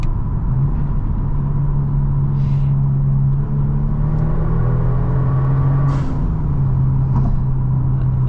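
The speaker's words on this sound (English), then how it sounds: "That sound from the air intake or air intakes is amazing" Tuned 2023 Genesis G70 with 450 horsepower accelerating from the driver's seat: a steady loud engine drone with rising tones as it revs and shifts, plus a few brief whooshes.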